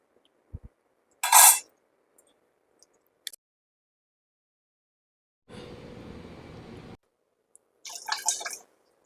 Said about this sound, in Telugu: కొంచెం వాటర్ వేసుకున్నాం.